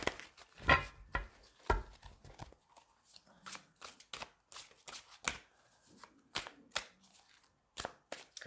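Tarot cards are shuffled in a series of quick, crisp riffles and taps, close and fairly quiet, with short pauses between bursts.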